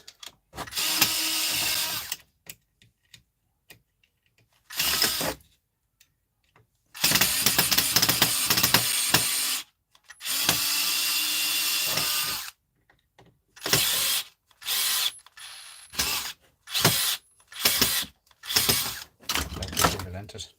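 A power screwdriver whirs near brass electrical fittings, running in a few long, loud bursts and then a series of short pulses separated by brief silences.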